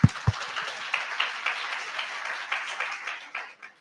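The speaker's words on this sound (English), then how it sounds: "I would like to applaud them today for this." An audience at a forum claps: a few loud opening claps swell into steady, moderately close applause that fades out after a few seconds.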